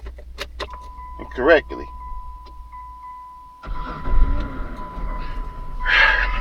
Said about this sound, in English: Hearing that key start that car